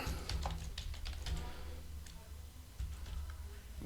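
Quick bursts of close computer keyboard keystrokes, irregular clusters of light clicks with a short pause midway, fairly quiet against a low room hum and no clear talking.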